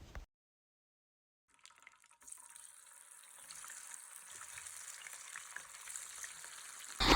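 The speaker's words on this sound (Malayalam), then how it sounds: "അതൊക്കെ കൂടി മിക്സ് ചെയ്തിട്ട് നമുക്ക് നമ്മുടെ ബീഫിനൊന്ന് ഫ്രൈ ചെയ്തെടുക്കാം" Beef with curry leaves frying in a pan for a dry beef fry, a quiet sizzle that starts after a brief silence and builds into a steady hiss, with a louder clatter at the very end.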